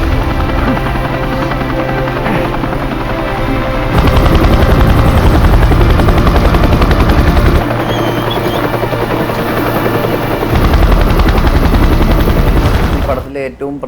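A layered film sound-effect helicopter for an airlift sequence: loud, rapid rotor thumping and engine roar that intensifies in stages and runs continuously close up.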